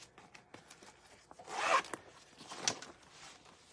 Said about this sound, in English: I'm gonna open the recessed zipper